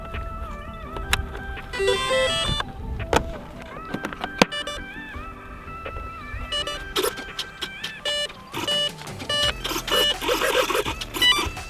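A series of short electronic beeps and tones from a model aircraft's ESC, several rising chimes followed by four distinct beeps signalling a 4S battery, with mechanical whirring and clicks around them.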